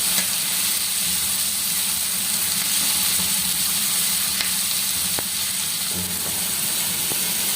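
Potatoes, fenugreek leaves and gizzard fry in a pan for a village-style curry, giving a steady close sizzle with faint clicks of stirring and no talking.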